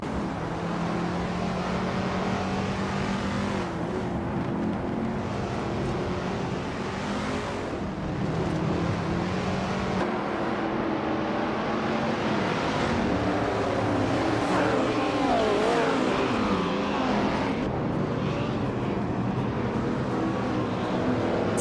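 Race cars in a racing video game at Snetterton 300, among them a 1966 Ford Fairlane, droning and whining steadily as the field gets under way. Engine pitches rise and fall and overlap continuously throughout.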